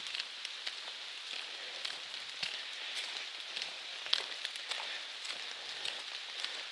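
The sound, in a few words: rain falling during a hike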